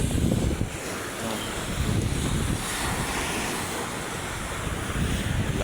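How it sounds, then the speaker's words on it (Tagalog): Strong waves roll constantly against the Manila Bay shoreline, a loud, steady wash of surf with heavy wind rumble on the microphone and no speech. "Ang lakas ng alon."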